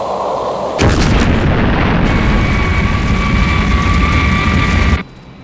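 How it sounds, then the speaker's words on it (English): Missiles launched and exploding in the Thunderbirds puppet TV series, a sudden loud roaring blast that kicks in under a second in, rumbles heavily for about four seconds alongside a steady whine, then cuts off abruptly. "Clayton, missiles 5 and 6, destroy them"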